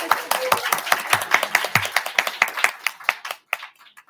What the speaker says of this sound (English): these people want to applaud you